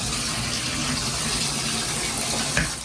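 A household faucet runs water steadily into a sink, a continuous close splashing hiss with a small bump near the end.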